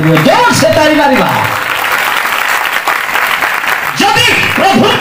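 A church congregation claps loudly during worship, a dense, sustained roar of applause that fills the room, with a voice speaking over it at the start and again near the end.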